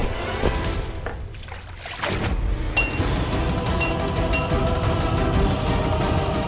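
Water thrown splashes and pours noisily, a sudden gush followed by continuous sloshing and dripping, close and fairly loud throughout.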